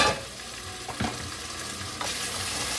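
Ginger garlic paste sizzles in hot oil in a pan while chicken curry is being prepared, a steady loud frying hiss broken by a few clinks of stirring.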